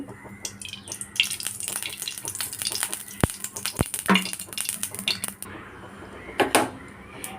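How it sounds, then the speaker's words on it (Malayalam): Coconut oil crackles and sizzles in a hot pan, making a steady close frying hiss with scattered pops and a few sharp clinks of utensils, under no talking. "ചട്ടി ചൂടായിട്ടുണ്ട് ഇനി ഇതിലേക്ക് കുറച്ച് വെളിച്ചെണ്ണ ഇട്ടാണ് ഞാൻ ഒഴിച്ചു കൊടുക്കുന്നത്"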